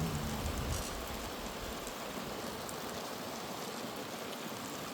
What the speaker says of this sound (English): Check the angle of the rain. It's heading in under here,